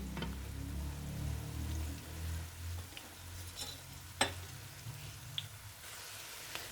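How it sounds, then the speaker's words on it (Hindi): Cabbage cutlets fry in a pan over medium-high heat, giving a soft continuous sizzle with a few sharp crackles and clicks scattered through it, no talking. "तो मैंने कटलेट डाल दिए हैं। मीडियम टू हाई पे रखिएगा हीट।"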